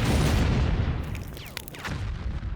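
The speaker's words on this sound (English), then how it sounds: "Soon, more German guns open fire." Several German artillery guns open fire in a World War II battle scene, a loud, dense rolling barrage of booms and blasts layered over each other, continuous through the moment with sharper cracks breaking out midway.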